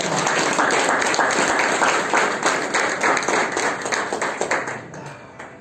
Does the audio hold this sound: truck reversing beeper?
no